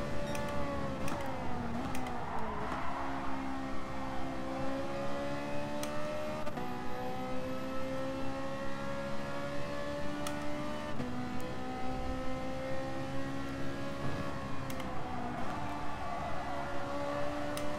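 Race car engine in a Gran Turismo Sport FIA Manufacturer Series race, a sustained whining drone rising and falling in pitch through shifts and corners, steady and close with no talk.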